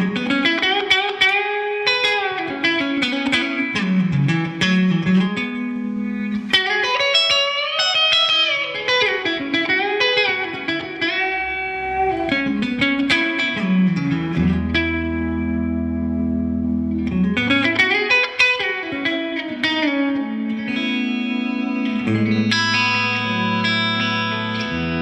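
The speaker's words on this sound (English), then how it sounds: "the center position of the three-way switch is going to give me both pickups together." A Gretsch G5655T-CB Double Jet electric guitar is played with both pickups selected, loud and close, with melodic runs and sustained chords wet with effects, echo and reverb, and no talking.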